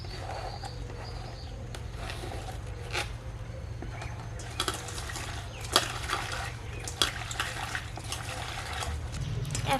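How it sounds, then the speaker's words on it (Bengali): Cauliflower and potato being washed by hand in a bowl of water in a village kitchen, with soft intermittent splashes and trickles over steady low background hum and faint birdsong. "এখন ফুলকপি আর আলু ভালোভাবে ধুয়ে নেব।"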